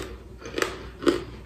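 Two sharp crunching bites into crispy fried guanciale, pork jowl, spaced about half a second apart, close and fairly loud against a quiet background.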